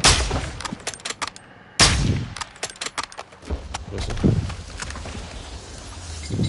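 Gunfire and explosions in a shooter video game: sharp bursts of shots, abrupt blasts and bangs cut in and out over several seconds, loud and close, with gaps between volleys.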